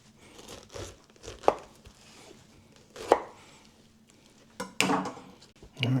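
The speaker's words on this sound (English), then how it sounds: "Let's see if we can go about getting this skin off" A knife cuts the skin off a ripe pineapple in a kitchen, giving sharp chopping strikes with crunchy slicing and crinkling texture, a few distinct cuts at irregular intervals and a louder burst near the end, close and with no talk.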